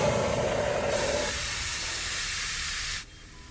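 A powerful spray hisses loudly and steadily as it neutralizes gastric fluids, a broad rushing jet that cuts off abruptly after about three seconds, leaving quieter ambience.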